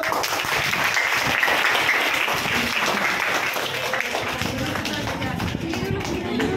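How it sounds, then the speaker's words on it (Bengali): A group of schoolchildren clapping their hands during a puppet and magic show, dense continuous applause filling the room at close range, with voices mixed in. "হাততালি দাও"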